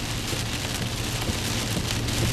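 Heavy rain pounding down during a tornado-producing thunderstorm in open country, a loud dense roar of drops drumming on surfaces nearby, steady and unbroken with no voices.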